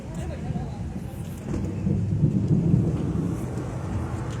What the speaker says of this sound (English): There's some thunder going on.